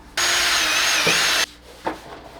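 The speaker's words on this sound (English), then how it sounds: "let me put the self-taps into the bumper for this thing" A power driver sinks a self-tapping screw into the plastic bumper of a 1986 Nissan 300ZX, a loud, close, high whirring buzz lasting over a second. A couple of faint knocks follow.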